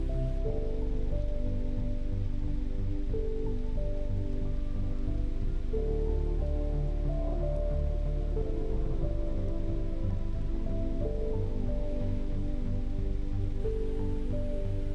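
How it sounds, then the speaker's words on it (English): Steady rain falling in the dinosaur game Path of Titans, a dense continuous hiss of drops on surfaces, fairly soft and even, with no voices. "A carno family is taking shelter from the rain as they wait for it to pass."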